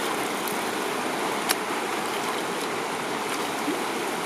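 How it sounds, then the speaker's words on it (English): Stream water rushes steadily while a gold pan is rinsed in it, a constant close wash of flowing water with a few small splashes and knocks. "I'm trying to rinse the whole pan overall."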